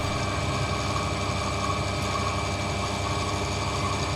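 A DIY CNC mill with flood coolant cuts with a 6 mm end mill at about 1,000 RPM and just over 8 mm depth of cut. A steady, even machine drone with a humming tone carries on without a break, and no one speaks.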